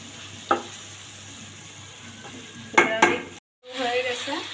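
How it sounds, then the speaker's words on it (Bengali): Chicken and potatoes being stirred and sautéed in a pan, with soft sizzling under a few sharp clinks and scrapes of a utensil against the pan, loudest near the middle, ending with a brief gap and renewed frying. "ভালো করে নেড়ে চেড়ে কষাই নিচ্ছি।"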